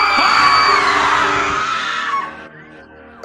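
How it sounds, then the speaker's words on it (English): A crowd of people screams in panic in an animated fandub scene, shrill overlapping shrieks loud at first and then fading away over a few seconds. "people began screaming like crazy"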